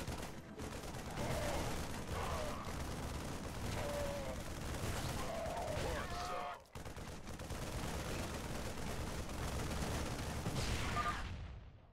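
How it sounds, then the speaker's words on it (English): Dense gunfire in StarCraft II Wings of Liberty, a steady rattling barrage that continues almost unbroken for the whole stretch over a loud battle din, with one brief gap partway through. "They're shooting civilians."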